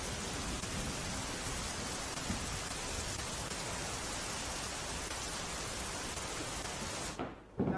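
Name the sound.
heavy rain falling in Gujarat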